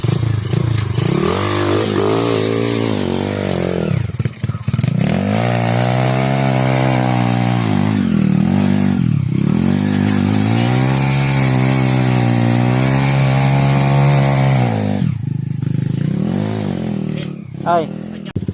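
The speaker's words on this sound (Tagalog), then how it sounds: "nairig na po natin ang hiyaw ng motor ni Bell Adventure" An enduro motorcycle engine revs and strains on a Palawan trail, loud and close, its pitch rising and falling in long sweeps across the whole stretch, with a brief drop-off and clattering near the end and voices talking over it.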